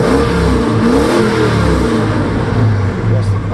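A 1968 Chevrolet Chevelle convertible, professionally restored, revs its engine nearby in a steady, loud run of throttle blips and a deep rumbling exhaust, with no other sound over it.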